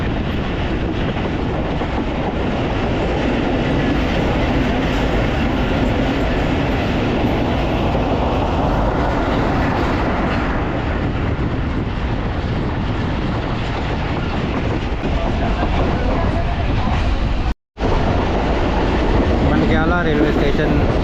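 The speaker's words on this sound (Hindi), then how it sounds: "मंडियाला रेलवे स्टेशन एंटर हो रही है ट्रेन।" Pakistan Express rumbling into Mandiala railway station, recorded from aboard: a continuous loud roar of wheels and carriage noise with rhythmic clatter and a brief dropout near the end, with a voice talking over it at times.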